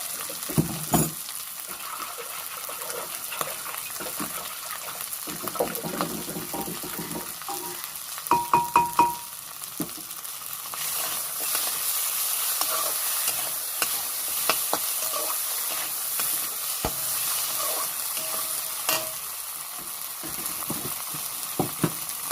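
Fish head frying in a pan for mung dal, a steady close sizzle broken by repeated stirring and scraping of a spatula against the pan.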